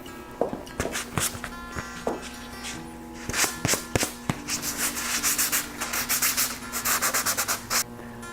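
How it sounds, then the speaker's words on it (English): Fine sandpaper rubbing over an oak branch, a close series of dry, scratchy strokes with irregular rhythm, denser and louder in the second half, with no talking. "I'm going to take some fine sandpaper and clean that up."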